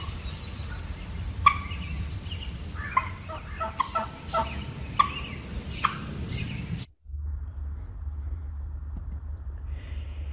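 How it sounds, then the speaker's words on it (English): Sharp, piercing wild turkey alarm putt calls repeat irregularly over steady low background rumble for several seconds, then the scene cuts to quieter ambience. "they make a putting sound"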